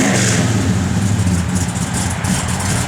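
Engine of a 1967 Dodge Coronet R/T with a blower on pump gas: a loud, close, throaty rumble that rises and falls in steady revs, with no voices.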